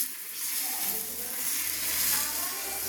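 A patishapta pancake frying in too much oil in a pan gives a steady, soft, hissing sizzle that holds at an even level throughout.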